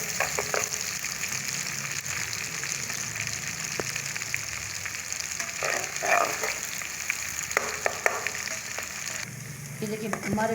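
Onions fry in a generous amount of ghee in a pan, browning for a chana dal gosht, giving a steady crackling sizzle with occasional stirring scrapes. No one speaks.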